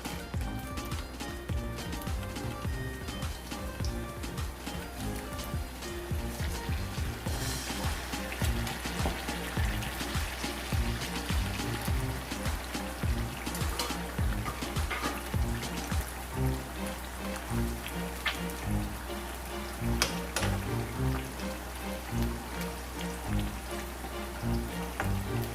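Raw jackfruit chips deep-fry in a pan of hot oil, giving a continuous bubbling crackle with a constant low hum underneath. The sound holds steady and close throughout, with no voices.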